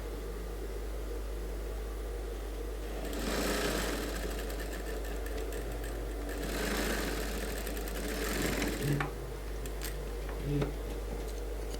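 A sewing machine runs in two or three sustained bursts while stitching a suit sleeve, a close steady mechanical whir over a constant low hum, with a few brief clicks near the end.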